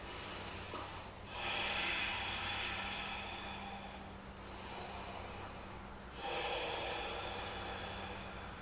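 Slow, deep breaths during a held yoga pose, with three long airy inhale-exhale swells spaced a few seconds apart over a steady low background hum, close and moderately quiet with no talking.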